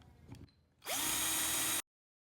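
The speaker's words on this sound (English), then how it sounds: "now I'm going to drill holes where I marked" A power drill whirs loudly and steadily for about a second while drilling holes in styrofoam, after some faint handling noises, then cuts off abruptly into silence.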